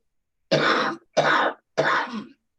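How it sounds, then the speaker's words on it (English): Three separate coughs follow one another at a steady pace, close and fairly loud, with short silences in between. "Sorry for coughing."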